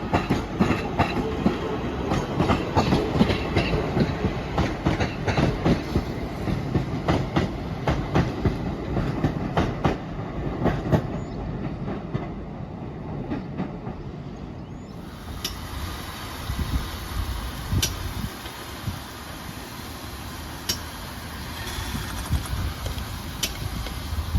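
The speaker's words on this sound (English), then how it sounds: "So here's a 323 terminating from Manchester Piccadilly" Class 323 electric train pulling into Crewe on a service terminating from Manchester Piccadilly: a steady rumble with rail clatter and occasional clicks, continuous throughout, with no voices.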